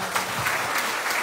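Brief burst of applause at a Mata Ki Chowki devotional gathering in Shane Park, Sydney, steady hand clapping from a crowd heard close and fairly loud throughout.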